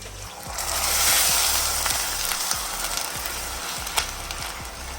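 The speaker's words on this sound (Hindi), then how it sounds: "तो मैं इसके अंदर अब 1 कप पानी डालने लगी हूँ।" A cup of water poured into vermicelli fried in ghee, a crackling sizzle with scattered sharp pops and spits, steady at close range and swelling briefly near the start, with no talk.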